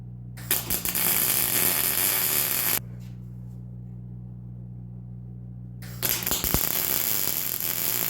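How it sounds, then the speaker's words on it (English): A generator hums steadily in the distance during a quiet stretch, a low constant drone set between louder broadband noise at the start and end of the clip. "Off in the distance, the generator is humming away."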